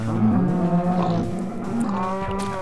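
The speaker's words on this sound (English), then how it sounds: "There seems to be an overpopulation of cows." Cows mooing in the Minecraft video game: several low, drawn-out moos overlap and follow one another steadily, fairly loud and close, with no talking.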